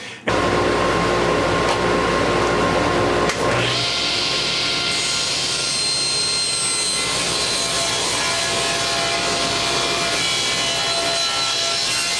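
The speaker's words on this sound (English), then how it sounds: "I'm going to cut a rabbet out of each one of these" Power saw cutting a rabbet into a wood strip for a sliding mitre saw stand: a loud, continuous cutting whine that starts after a brief pause and rises in pitch as the blade bites, running steadily to the end with no talk.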